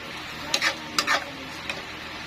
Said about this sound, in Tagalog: So ngayon, pwede natin siya haluin ngayon.